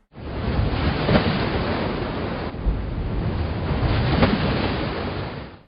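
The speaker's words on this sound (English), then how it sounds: "The waves of the sea hit the sand and make a splashing sound." Sea waves wash up onto a sandy shore in a loud, continuous rushing surge that swells twice, with wind buffeting the microphone.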